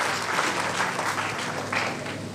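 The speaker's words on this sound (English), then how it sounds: "So a big round of applause for all of you sitting here." An audience at an NSS award ceremony applauds the awardees and volunteers with sustained, even clapping that continues throughout without pause.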